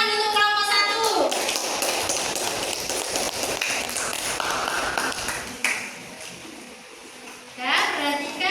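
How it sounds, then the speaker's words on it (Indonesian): Classroom applause for a student group, a dense patter of many hands clapping for several seconds while teacher and children speak over it, fading briefly before rising again at the end. "Tepuk tangan untuk kelompok 1"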